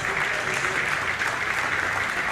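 A church congregation applauds together in steady, dense clapping that fills the whole moment, loud and continuous with no pauses, some voices faintly mixed in.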